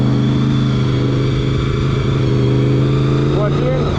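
Motorcycle engine being ridden, with a steady low drone that holds through the clip and a brief rise in pitch near the end as it shifts up and gets back on the throttle; a rider talks over it.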